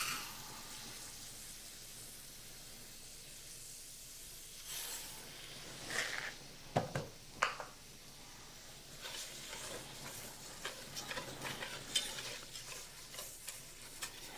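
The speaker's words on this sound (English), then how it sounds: "we're just going to toast the rice" Arborio rice toasting in a pan for risotto, a soft steady sizzle and hiss with scattered stirring scrapes and light grain clicks, close and fairly quiet.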